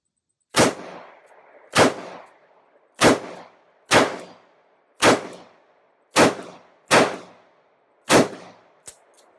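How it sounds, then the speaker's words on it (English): Smith & Wesson 327 Performance Center revolver firing .38 rounds double action, eight sharp, loud shots at roughly even intervals, each with a short ringing decay. "first shot's a 38 out of the Smith & Wesson 327 Performance Center. Going in double action."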